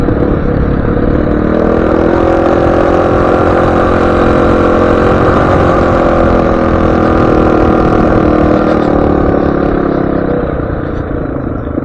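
A motorcycle engine runs steadily and loud on a trip across Nevada, a close, continuous rumbling drone with a slight rise and fall in pitch, and no talk over it for nearly twelve seconds.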